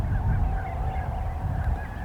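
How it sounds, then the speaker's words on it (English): A large flock of geese and swans calls continuously in southern Alberta spring, overlapping honks layered over steady low outdoor rumble, loud and close with no talk. "It was a great cacophonous swirl of avian life in this gorgeous southern Alberta springtime sun."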